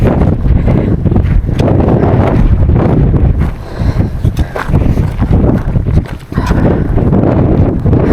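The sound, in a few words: strong wind on exposed mountain ridge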